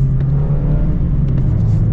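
2023 Mazda Miata RF with a manual transmission accelerating through short gears, its engine note droning steadily and close up for a brief moment, with no talk.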